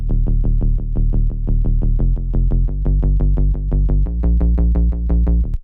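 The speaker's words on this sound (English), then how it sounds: "So the sub bass sounds like this." A deep, buzzy sub bass synth plays a steady repeating pattern of short notes, shifting pitch a few times, loud and alone.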